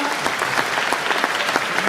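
A crowd applauds steadily, a dense patter of clapping hands that holds at an even level throughout the short burst.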